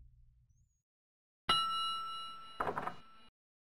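A service bell on a shop counter in The Secret of Monkey Island rings out with a bright metallic ding, followed by a second rattling ring, close and clear against silence.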